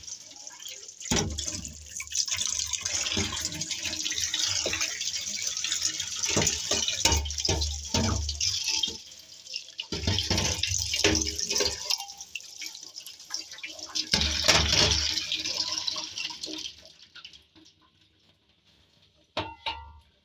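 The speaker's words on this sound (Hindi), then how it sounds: "कढ़ाई को पहले धो रहे हैं।" Running tap water splashes while a kadhai (wok) is washed, with irregular bursts of splashing and scrubbing, brief pauses, and close dripping near the end, fairly quiet and with no talking.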